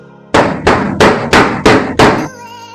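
A metal cake tin of chocolate sponge batter is tapped against a counter six times in quick, even succession, each knock loud, close and sharp with a short ringing decay.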